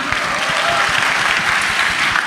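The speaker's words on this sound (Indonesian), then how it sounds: "Jadi tepuk tangan lu dong buat kita semua." A live audience at the YOTNC 2023 youth event claps steadily and loudly, a dense, even wash of hands sustained throughout with no pauses.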